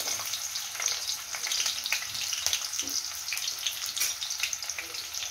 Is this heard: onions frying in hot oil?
yes